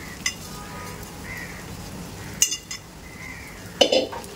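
A spoon stirs sabudana khichdi in a pan, giving three sharp metallic clinks and scrapes spread across a few seconds over a faint, steady sizzle.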